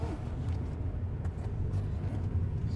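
A car engine runs steady and close as a learner driver presses the gas pedal too hard. The rumble is continuous, with no clear rev peaks standing out.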